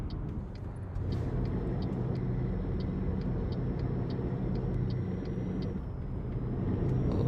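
A modded DAF XF truck in Euro Truck Simulator 2 drives along with a steady low engine rumble, and a rapid, evenly spaced series of faint high ticks runs over the drone.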